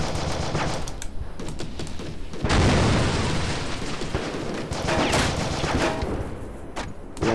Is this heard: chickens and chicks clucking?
no